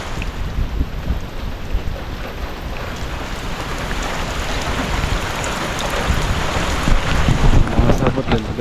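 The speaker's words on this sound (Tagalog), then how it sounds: "Gagalawan kasi malakas din yung hangin." Strong wind gusts swirl through heavy rain, a loud broadband rush with rumbling low buffeting that swells toward the end while rain hisses steadily underneath; no voices.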